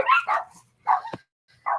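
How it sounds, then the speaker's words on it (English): Several close, loud dog barks and yips come in short bursts separated by brief pauses, with no talking over them. "you're probably fixing to hear a whole lot of dogs"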